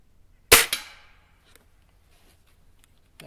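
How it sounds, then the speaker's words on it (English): A single sharp shot from a Gamo CFX .22 air rifle fires up close outdoors at a 25-yard target, a crisp crack with a short decay and a faint second click just after. "Now we're just shooting for groups right now."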